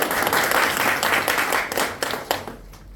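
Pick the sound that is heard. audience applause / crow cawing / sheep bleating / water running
audience applause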